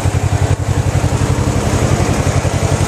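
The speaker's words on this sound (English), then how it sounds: "This is a 12 horsepower engine" A 12 horsepower engine running on a wood gasifier idles loudly and steadily up close, its rapid, even firing pulses thumping in a constant low chug with no voices.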